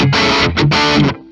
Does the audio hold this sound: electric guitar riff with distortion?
yes